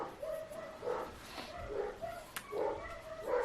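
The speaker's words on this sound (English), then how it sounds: "sorry for my dogs barking" A dog barks repeatedly in short, muffled yaps from another room, several quick barks spaced irregularly.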